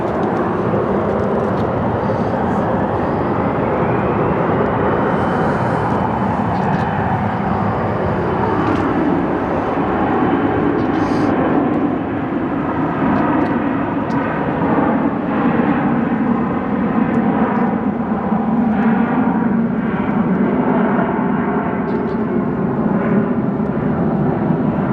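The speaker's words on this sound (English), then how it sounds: "The E-175 is departing for Des Moines, Iowa." An Embraer E-175 departs Phoenix Sky Harbor, its jet engines rising into a loud, sustained roar with a clear sweeping whine, while a Southwest Airlines Boeing 737 MAX 8 arrives amid continuous close engine noise.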